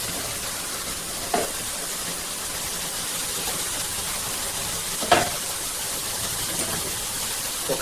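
Spinach frying in oil sends up a steady, even hiss, broken by a few soft clicks of a spoon against the pan, with no voices.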